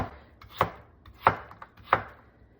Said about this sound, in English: I'm going to continue cutting all of the potatoes into thin slices